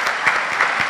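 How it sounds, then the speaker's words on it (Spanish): Audience applause at a logistics and intermodal transport panel, a steady wash of many hands clapping at close range, with no voices over it. "Un aplauso."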